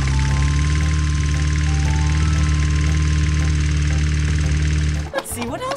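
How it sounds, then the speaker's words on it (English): A green toy lawnmower's engine sound runs as a steady, droning mechanical hum, loud and close, for about five seconds before breaking off into brief clattering noise. "Oh, wow, this is a green lawnmower."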